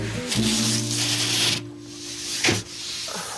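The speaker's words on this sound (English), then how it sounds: "A rasp is good for removing 1/8 of an inch of drywall at the most." A rasp files drywall on a ceiling in short scraping strokes, a gritty rubbing sound with a steady low hum underneath and a brief pause between strokes.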